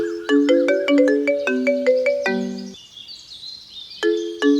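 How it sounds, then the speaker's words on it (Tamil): A phone ringtone plays a bright, chiming melodic pattern of quick repeated notes, loud and close, pausing briefly before the tune starts again; no one speaks over it. "இந்த மாதிரி நேரத்துல தான் ஃபோன் பண்ணி தொந்தரவு பண்ணுவாங்க"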